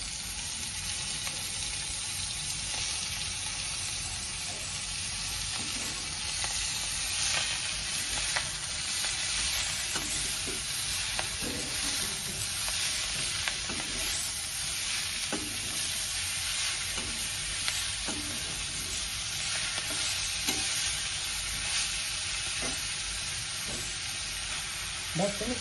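Vegetables frying with sautéed onion in a pan, a steady loud sizzle broken by regular scraping strokes of a spoon stirring them, continuous and close throughout.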